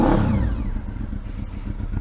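A motorcycle fitted with a new exhaust revs loud and close. It opens with a strong burst of throttle, then settles into a rough, pulsing idle.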